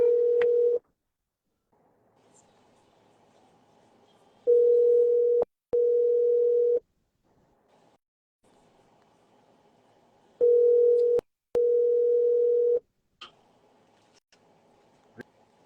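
A telephone rings out unanswered: steady single-pitch tone bursts repeat in an even on-off pattern with brief clicks between them, clear and close, with no talking.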